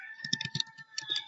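Typing on a computer keyboard, a quick run of close, light key clicks in two short bursts.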